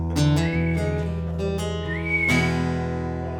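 A person whistles a short tune of sustained and sliding notes, fairly close and clear, with a music-show backdrop and no talking.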